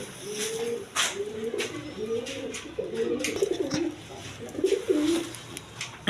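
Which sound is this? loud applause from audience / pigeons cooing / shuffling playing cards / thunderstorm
pigeons cooing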